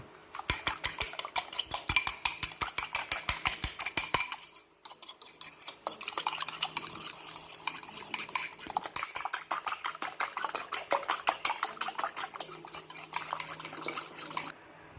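A utensil whisking curry powder into milk in a pan, fast steady metallic scraping and clinking against the pan, close and continuous with a brief pause midway.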